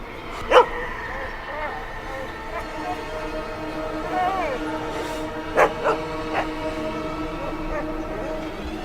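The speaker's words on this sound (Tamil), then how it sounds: "இந்த நாய் ஏன் கத்திக்கிட்டே இருக்கு?" A dog barks and yips in a few sharp bursts, one early and a cluster near the end, over a steady background hum with faint voices.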